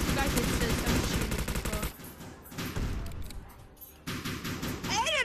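Rapid shotgun and pistol gunfire in a multiplayer video game shootout, dense bursts of shots that thin out midway before firing picks up again, with a voice talking over it.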